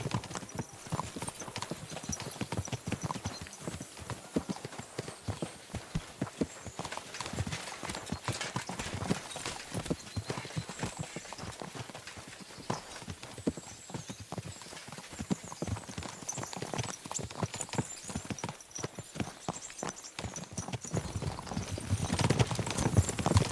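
Horse hooves clip-clopping in the video game Kingdom Come: Deliverance 2, a dense, steady run of close hoof strikes with faint tack noise, continuing without letup.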